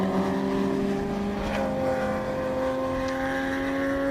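Race car at Snetterton circuit during a club enduro championship, a steady sustained engine drone with a slight pitch rise, heard alone at moderate distance without talk.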